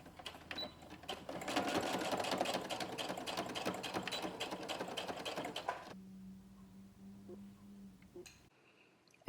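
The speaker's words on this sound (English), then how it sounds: "I'm going to sew along both of these sides." A sewing machine stitches the sides of a doll shoe in a fast, even mechanical chatter for several seconds, close by, then stops, leaving a faint hum and a few small clicks.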